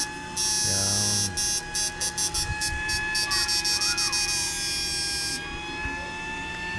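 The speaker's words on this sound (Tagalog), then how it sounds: "tagalin muna natin yung blower. Maingay." A small electric blower on an 86000W inverter under repair whirs loudly in rapid on-off pulses, then settles into a steady high-pitched hum against a low electrical drone.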